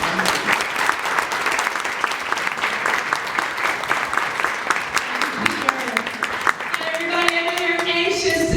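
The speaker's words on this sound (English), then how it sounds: "Please welcome her with a big round of applause" A theatre audience gives a sustained round of applause for a guest welcomed before a children's play, dense clapping holding steady throughout, with voices rising near the end.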